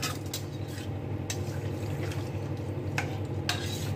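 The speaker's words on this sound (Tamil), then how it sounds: "அந்த அலந்து வச்ச தண்ணி அப்படியே ஊற்றிடுவோம்." Measured water poured into a pot of rice, dal and masala for kichadi, giving a steady close liquid rush with a few sharp clinks and scrapes.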